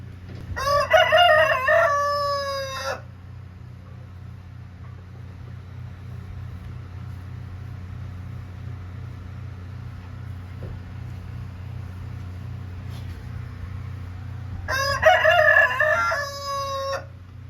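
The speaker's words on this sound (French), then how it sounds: "Mon coq est brisé. 8h10 le soir, il chante." A rooster crows twice in the evening, a loud close cock-a-doodle-doo at the start and another about fourteen seconds later, with a low steady hum of traffic or machinery underneath and quiet between the calls.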